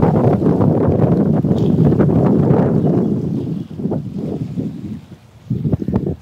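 Strong wind buffets the microphone at Polwel Park beside Kaptai Lake in Rangamati, a loud roaring rumble that gusts steadily, then eases into uneven bursts toward the end.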